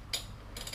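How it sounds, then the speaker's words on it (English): Ratchet snugging down lug nuts on a Polaris during a fender installation: two short bursts of quick metallic clicking separated by a brief pause, faint and close, with no talking. "I am just going to snug these bolts down, lug nuts."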